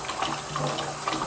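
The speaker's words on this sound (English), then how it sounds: "Got to wash out my big measuring cup." Running tap water rinses out a large measuring cup in a kitchen sink, a steady close splashing wash lasting about a second with no talk over it.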